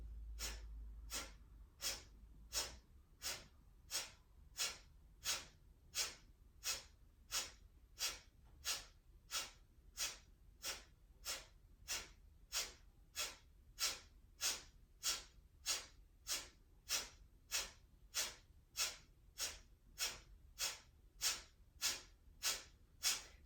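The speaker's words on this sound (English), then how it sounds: "Begin Kapalabhati" Kapalabhati yoga breathing: a long run of sharp, forceful nasal exhales at a steady quick pace, about one per second, each a short close hissing puff with faint quiet between, no talking.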